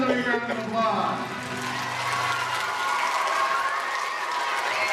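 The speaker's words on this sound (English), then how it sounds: "Give yourselves a big round of applause" Students at a Blues in the Schools music session applaud themselves: a crowd's clapping swells after fading tones of music and continues as a steady, moderately loud patter with some voices mixed in.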